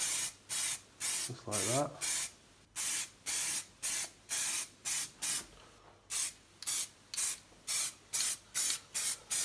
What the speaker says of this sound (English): let's give them the first coat of primer